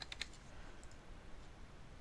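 A computer keyboard is typed on briefly, a few quick faint clicks near the start and then mostly quiet background, as a zip code is entered.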